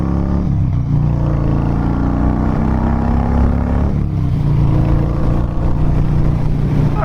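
A Harley-Davidson Dyna Low Rider motorcycle engine drones loudly and steadily as the bike accelerates on the road, with the pitch rising through two pulls and wind noise throughout.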